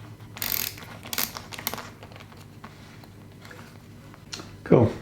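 A clamp is tightened over a diesel heater air intake, giving a series of quiet ratcheting clicks and short scraping bursts, spaced unevenly, with a sharper rattle at the end.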